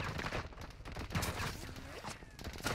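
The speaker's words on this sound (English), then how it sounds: "Oh, I got another team shooting at me" Bursts of rapid gunfire from an enemy team ring out in the Call of Duty DMZ video game, loud and dense over a couple of seconds, with a voice briefly audible.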